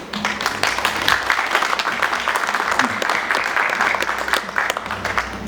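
An audience gives sustained applause at an event, many hands clapping in a thick, steady wash with a few sharper individual claps, moderately loud and continuing for several seconds.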